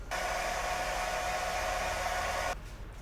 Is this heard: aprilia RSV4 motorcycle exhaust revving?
no